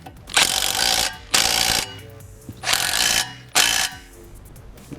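A ratchet wrench tightens brake mounting nuts on a 1992 Honda CB7 during a rear disc brake conversion, giving four separate bursts of quick, close clicking with short pauses between them.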